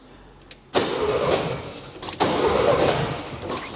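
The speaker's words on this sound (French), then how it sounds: "Je vais mettre des petits coups de démarreur comme ça, histoire de bien faire tourner le moteur à vide" The starter cranks the engine of an abandoned VW Beetle that has not run for five years. It gives two short bursts of grinding, whirring cranking from close by. The second burst follows the first after a brief pause, and the engine does not catch.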